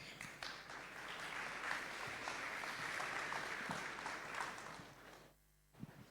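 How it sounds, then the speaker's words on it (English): Audience applause at a tech talk welcoming the next speakers, steady clapping for about five seconds that stops abruptly, followed by a brief sound at the end. "a round of applause for our next speakers."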